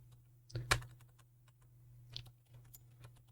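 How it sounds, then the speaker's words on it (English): Typing on a computer keyboard: a few faint, scattered key taps over a low steady hum, quiet and close. "We will type here digital product"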